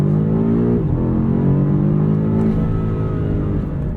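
A 2022 BMW M5 CS exhaust accelerating hard, a loud, steady engine roar that climbs in pitch, dips briefly at a gear change and rises again, heard close with no talking.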